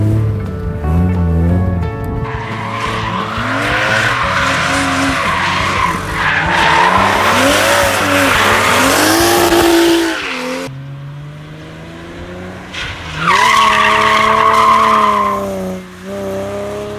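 A JDM Toyota drifting, its engine revving hard as the tires squeal loudly and continuously up close, easing off midway before surging again, with no talking.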